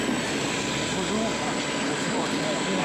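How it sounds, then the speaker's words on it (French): Aircraft arriving from Baghdad at a military airport on Cyprus, a loud, continuous engine roar that fills the whole stretch, with no break and talk underneath. "L'avion en provenance de Bagdad se présente."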